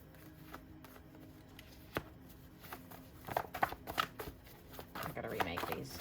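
A deck of cards being riffled and shuffled in a couple of quick bursts, close by, after some quiet handling noises.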